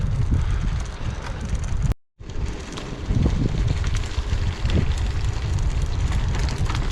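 Strong wind buffeting the microphone while cycling on a country road, a loud continuous low rumble with a brief dropout partway through, with no talk.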